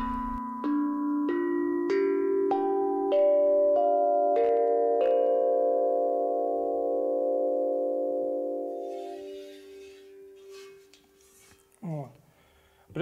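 A 35 cm double-sided steel tongue drum struck with sticks rings out in a rising sequence of bright, sustained metallic tones that pile up and slowly decay, close and loud, followed by quiet rustling.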